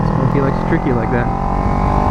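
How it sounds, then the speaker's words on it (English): Wind roars steadily over a helmet mic during a motorcycle group ride through a canyon on a Ninja 300 and a Honda Grom, a dense low rumble with a voice faintly talking underneath. "The wind is making its presence known."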